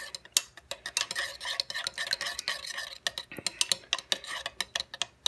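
Gak mixture stirred briskly in a container, giving a rapid, close series of sharp clicking taps and scrapes that keeps a fairly regular rhythm and grows more pronounced toward the end.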